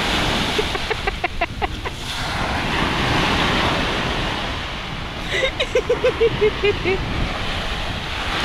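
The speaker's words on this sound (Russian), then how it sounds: "Волна! Волна! Бля, сейчас мокрым будет." Sea waves break and wash up on a beach in a steady, loud roar, with wind buffeting the microphone and bursts of excited shouting from people nearby.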